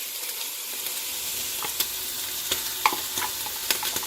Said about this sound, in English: we're just going to saute that with the meat until the onion starts to turn translucent.